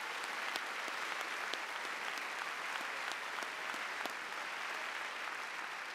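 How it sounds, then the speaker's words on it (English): An audience at a Raytown High School honors ceremony claps in a steady, dense round of applause heard from a distance across a large hall, sustained evenly throughout with no voices standing out. "Please recognize these students with a round of applause."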